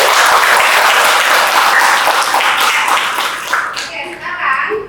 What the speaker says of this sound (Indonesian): Kita berikan aplaus dulu untuk memori Anda yang masih ada.